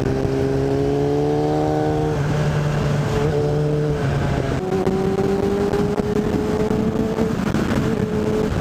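A Suzuki 650 Bandit motorcycle engine pulls hard while being ridden, loud and close, its steady drone climbing in pitch through the gears with brief dips at each shift.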